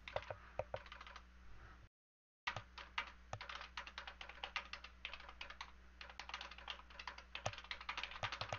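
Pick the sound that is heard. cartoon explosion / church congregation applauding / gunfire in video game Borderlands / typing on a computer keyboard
typing on a computer keyboard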